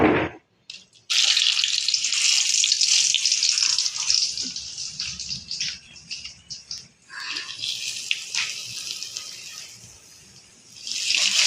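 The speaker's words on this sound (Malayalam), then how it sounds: "അപ്പം നമുക്ക് ഇതൊന്ന് ഫ്രൈ ചെയ്താലോ ഇതും ഫ്രൈ ചെയ്തെടുക്കണം കേട്ടോ" Kashmiri chillies and garlic fry in hot oil for a bitter gourd chutney, a close, steady hiss that begins after a short pause, dips midway and swells again near the end, with no voices.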